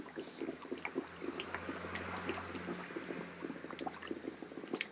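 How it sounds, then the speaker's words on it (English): Boiled water is poured from a vessel into a mash tun holding grain while brewing an IPA clone. The close, quiet trickle and gurgle of liquid carries bubbly splashes throughout, with no voices. "I need to add 9 litres of this boiled water from here into the mash tun."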